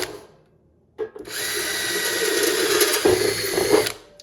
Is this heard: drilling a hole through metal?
yes